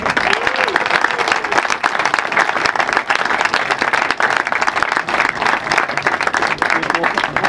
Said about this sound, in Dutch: Dus een groot applaus voor Lex Visser.